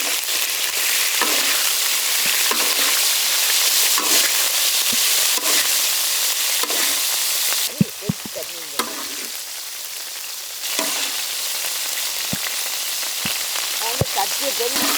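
Beef liver fries in butter in a pan with a dense, steady sizzle and crackle, broken by occasional sharp pops and brief stirring clatter.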